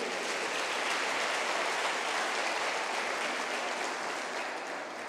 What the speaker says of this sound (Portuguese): Vamos aplaudir Jesus mais uma vez.